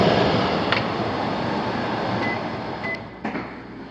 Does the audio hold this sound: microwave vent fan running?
yes